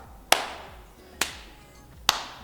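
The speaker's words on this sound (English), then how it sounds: "I want to hear the clap." Three sharp single hand claps in an exercise class, evenly spaced about a second apart, crisp and close with quiet room tone between them.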